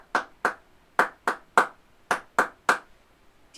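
Hands clap in a steady rhythmic pattern during a Year 3 and 4 music lesson, eight sharp, evenly spaced claps in close succession, clear and alone with no talking.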